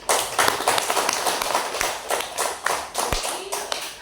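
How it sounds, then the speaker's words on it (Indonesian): Students clapping in a classroom, a burst of uneven, scattered claps over about four seconds, fairly close, with a faint voice mixed in. "Tepuk tangan dulu."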